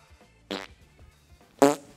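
Two short, buzzy fart sound effects play, the second louder and longer than the first, with quiet gaps between them.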